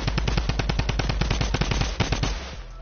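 Rapid automatic gunfire in a shooter video game, a fast even string of sharp close shots that stops abruptly, with no talk.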